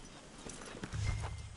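Horse hooves walking in Red Dead Redemption 2, a steady clip-clop of several close hoof strikes, growing louder toward the end, with no talking.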